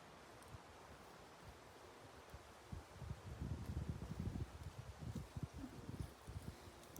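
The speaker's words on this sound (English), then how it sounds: "it's pretty windy out" Wind gusts buffet outdoors, a low rumbling roar that swells after a quieter start and keeps surging in uneven bursts.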